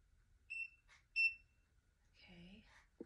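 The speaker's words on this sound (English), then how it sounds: "You wait for the beep." Two short, high electronic beeps from a Tymo Deep Waver curling iron sound in quick succession, followed by a brief murmur of a voice and a soft click, all fairly quiet.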